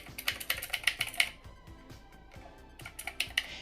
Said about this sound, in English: There are 6 classic mechanical style keys giving you a very nice satisfying